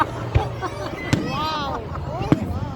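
Green firework bangers go off in three sharp, punchy blasts spaced roughly a second apart, ringing out loud over nearby people chattering excitedly.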